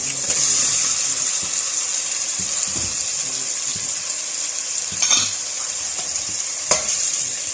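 Tomatoes hit a hot frying pan for dal maash, setting off a steady loud sizzle with occasional stirring clinks close by.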